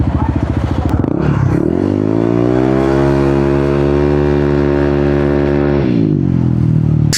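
A Honda ADV 160 scooter with a remapped stock ECU and upgraded CVT revs hard on a test ride. The engine drone climbs and holds loud and close, then drops back to a putter.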